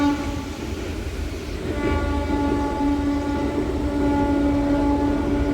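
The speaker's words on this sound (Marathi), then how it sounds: "आली आली ट्रेन आली" A train rumbles past close by near KP waterfall, its steady heavy roar and rail noise building and holding, with a sustained horn-like tone running through it.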